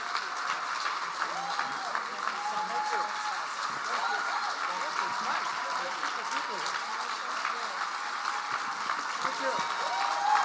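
Crowd applause for Governor Jay Inslee at a Democratic primary forum, a continuous even patter of clapping throughout, with voices mixed into the crowd noise.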